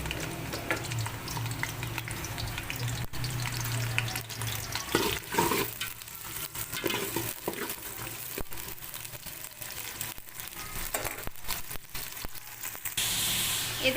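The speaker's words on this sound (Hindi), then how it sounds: "ये देखिए फ्रेंड्स, मैंने ऑयल लिया है, उसमें मैं अभी प्याज डालूँगी ब्राउन करने के लिए।" Sliced onions browning in hot oil in a pot for chicken yakhni pulao, giving a steady close sizzle with bursts of stirring and scraping throughout.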